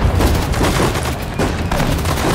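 Sudden Strike 4 battle during a German campaign at Dunkirk: loud, dense bursts of gunfire and rattling shots overlap continuously with low rumbling booms, close and sustained.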